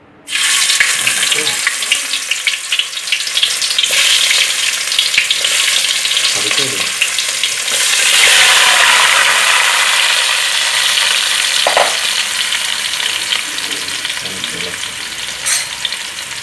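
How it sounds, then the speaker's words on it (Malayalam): Steady, loud crackling sizzle of beef frying in hot oil, continuous throughout with occasional brief clinks and stirring sounds. "ഇത് നമ്മൾ എണ്ണയ്ക്കകത്തിട്ട് വറുത്തെടുക്കുകയാണ് ചെയ്യുന്നത്"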